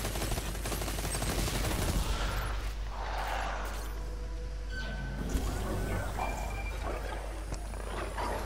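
Rapid gunfire rattles during a video game fight against the boss Calus, with bursts of shots layered over booming game effects and continuous background noise.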